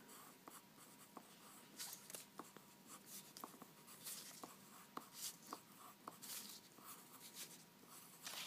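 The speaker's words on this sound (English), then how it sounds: "So Claire, go ahead and write glue." Pen writing on paper while folding a hexa-hexaflexagon, a quiet, close scratching with rhythmic strokes and small taps continuing steadily throughout.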